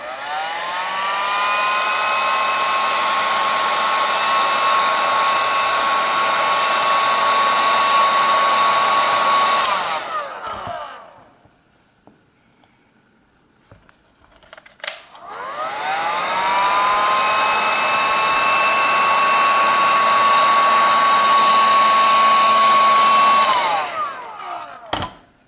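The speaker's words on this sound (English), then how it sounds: "We just have to warm it up a little bit with the heat gun" A heat gun blows hot air onto heat shrink tubing for a lathe carriage lock, a loud steady whine in two long bursts of about ten seconds each with a short quiet gap between them.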